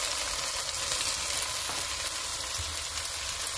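Pork estofado simmering in a pot, a soft steady bubbling sizzle that holds evenly throughout with no voices.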